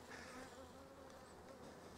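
Honey bees buzz continuously in a dense, steady drone, many insects humming together close by with no voices.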